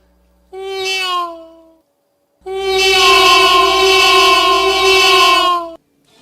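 Cat meows from The Sims in a space setting: a short rising meow, then after a pause a longer, loud, sustained, tonal meow that cuts off abruptly.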